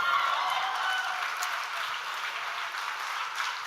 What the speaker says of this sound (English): Big round of applause for those still standing.